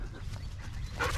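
A dog whimpers and lets out short, yippy barks close by, with a brief higher burst near the end, mixed in with some background voice.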